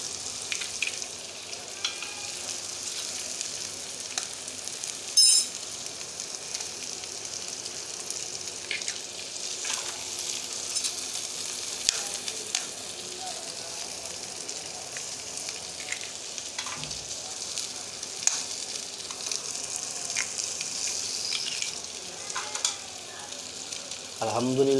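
Egg frying in a pan for an Afghani omelette, with a continuous quiet sizzle and occasional light clinks and scrapes from stirring, heard close but low in level.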